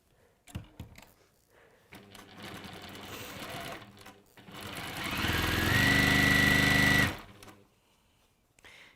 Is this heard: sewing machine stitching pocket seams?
yes